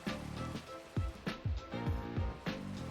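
Rain in Pixelmon, a Minecraft mod, patters steadily and faintly, with soft thudding drop-like hits recurring about every half second under a low game background.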